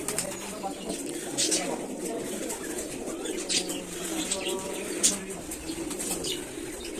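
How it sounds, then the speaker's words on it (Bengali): Dozens of pigeons at a pigeon farm, said to keep around eighty to ninety birds, coo in a steady overlapping murmur, with repeated wing flaps and flutters breaking through at close range and faint voices in the background. "আজকে একটা কবুতর ফার্মে আসছি তো দেখতে পাচ্ছেন এখানে অনেকগুলো কবুতর আছে"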